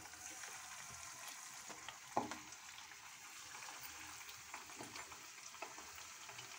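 Chicken pakodi pieces fry in hot oil with a steady, soft sizzle and a single sharp clink partway through, with no voices.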